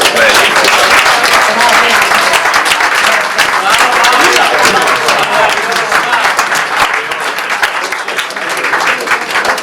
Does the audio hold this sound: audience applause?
yes